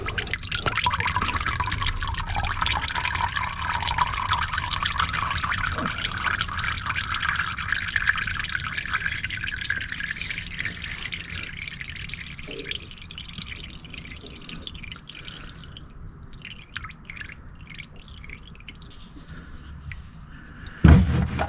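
Engine oil drains from a 2021 Buick Encore GX 1.2 turbo into a pan, a steady close pouring stream that thins into scattered drips toward the end, with a brief knock at the close and no talking.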